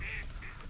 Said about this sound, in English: Had some gadwall swim in